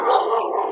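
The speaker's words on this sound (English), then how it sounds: "Sorry, dog's barking. I have a King Charles Cavalier Spaniel" A King Charles Cavalier Spaniel, a small 19-pound dog, barks indoors in one short, loud, close burst with no talking.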